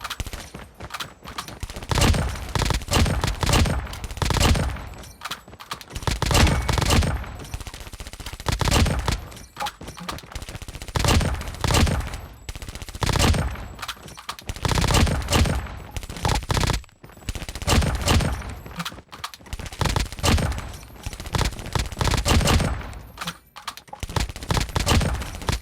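Rapid SMG gunfire in Call of Duty Mobile, repeated fast bursts of shots in close succession with brief gaps between volleys, loud and continuous throughout.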